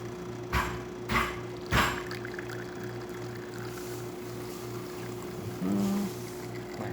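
A Jura espresso machine pulling a two-ounce shot from its spouts, a steady low pump hum with a few sharp clicks near the start, heard close and alone.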